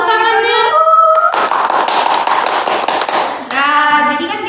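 A studio audience bursts into loud, dense applause for podcast guests, the clapping filling a couple of seconds between stretches of close talk.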